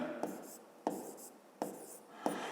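Chalk or marker scratching numbers onto a board in a classroom-style lesson, four short strokes spaced roughly evenly, each a quick scrape with a soft tail, close and fairly quiet.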